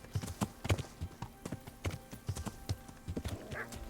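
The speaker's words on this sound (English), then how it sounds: "That guy took us off our horse." Horse hooves clip-clop in a steady, uneven walking rhythm in the medieval game Kingdom Come: Deliverance, with a soft whinny or creak near the end, fairly close and at moderate volume with no talking.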